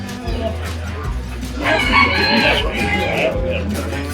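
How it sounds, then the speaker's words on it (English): A rooster crows at a poultry club show among show chickens. The crow is loud and drawn out, with a low steady hum of the hall and other fowl in the background. "That's a chook."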